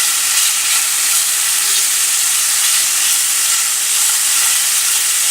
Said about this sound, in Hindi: एक पैन में ऑयल लिया, चिकन शामिल कर लिया, 2 चम्मच ऑयल।